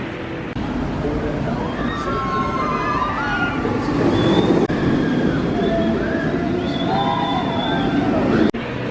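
A ride on the Hulk, a B&M roller coaster in Florida, brings a constant loud roaring rumble topped by high wailing screams that rise and fall throughout.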